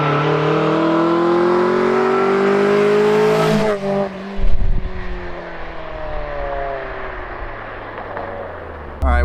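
A Mazda Miata with a hot air intake accelerating hard, its engine note climbing through the revs, then dropping through a gear change with a thump and carrying on at lower pitch, loud and close.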